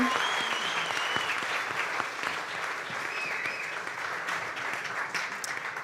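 An audience at a community crowdfunding event applauds Laura with sustained, even clapping from a seated crowd, slightly distant and tapering gently over about six seconds.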